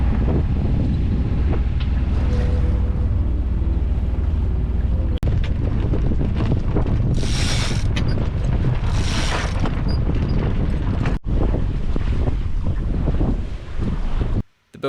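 A sailboat under sail on the open ocean heading to the Tuamotus, with steady rushing wind buffeting the microphone, water washing along the hull and occasional sharp knocks, no voices.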